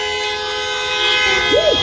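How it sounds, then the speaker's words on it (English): Horns honking at a pizza and DJ trivia game night, layered and sustained, with a short rising-and-falling toot near the end amid crowd noise. "Honk those horns, let's go!"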